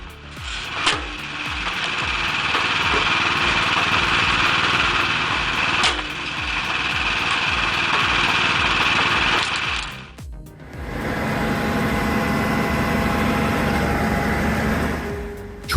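A homemade firewood processor wood splitter driven by a Husqvarna 576XP chainsaw motor runs at high revs, a loud, buzzing two-stroke drone with a brief dip and pause around ten seconds before resuming.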